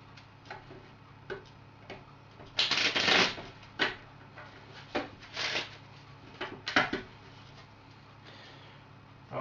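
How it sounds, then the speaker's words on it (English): A deck of playing cards is shuffled at a blackjack table, giving soft riffling bursts and scattered ticks and taps, with the loudest riffles in the middle of the stretch and no talking. "let's shuffle the deck a little bit"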